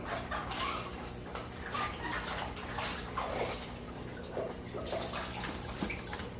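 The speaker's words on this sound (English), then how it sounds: "bounce them around in the water a little bit to get rid of any excess detritus that could be on them" Aquarium decorations being swished and rinsed in a bucket of water, giving a continuous close splashing and sloshing with small drips, no voices.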